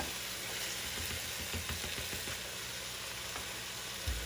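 American goulash with tomatoes sizzling over high heat in a cast iron pan, a constant, fairly soft hiss with faint scrapes as it is stirred.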